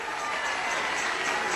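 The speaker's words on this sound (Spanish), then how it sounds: "Dale ese aplauso a Jesús." A church congregation applauding together, a steady dense wash of clapping that holds even throughout, with voices mixed into the crowd noise.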